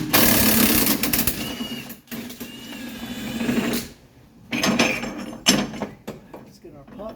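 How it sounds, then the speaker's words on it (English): A spring compressor is worked on the front suspension of a 1985 Mercedes 300CD, producing close, rapid mechanical ratcheting bursts with short pauses between them. "Now I'm going to go decompress our suspension."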